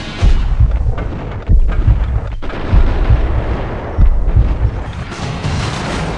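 Repeated gunfire bursts from the PC shooter game Max Payne, loud sharp shots in clusters with booming low thumps, several volleys across the stretch with no talk.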